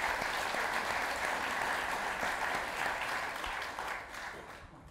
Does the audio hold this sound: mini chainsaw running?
no